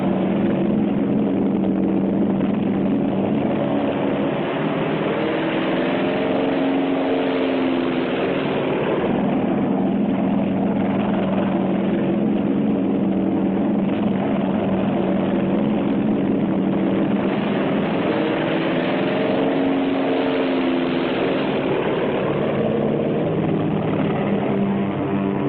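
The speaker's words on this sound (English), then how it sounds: "In the pre-dawn, the American carrier planes take off." American WWII carrier planes take off before dawn, their piston engines and propellers droning loud and continuous throughout with a steady rumbling roar that swells and eases slightly.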